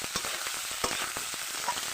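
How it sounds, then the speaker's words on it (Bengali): Potatoes fry with ground spice paste in a pan, giving a steady close sizzle broken by small clicks and taps as they are stirred. "আলুটা ভালো করে মশলার সঙ্গে কষিয়ে নেব"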